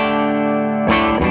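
Clean electric guitar through a Fuzzrocious Feed Me pedal with a 1 kHz boost: a ringing sustained chord fades for most of a second, then a brighter, fresh strum and a quick second hit cut in, close and alone.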